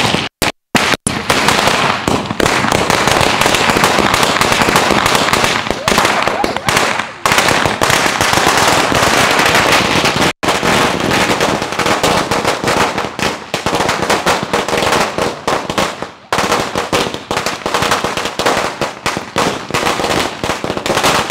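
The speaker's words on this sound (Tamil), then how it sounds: "சரி 2 முறிக்குட்டு இல்லை பற்ற வச்சிடலாம். எவ்வளோ நேரம் வெடிக்குதுன்னு பார்த்துடலாம்." Sivakasi firecrackers burst close by in a continuous, loud crackling barrage that lasts about twenty seconds. Only a few brief gaps break the steady stream of rapid pops.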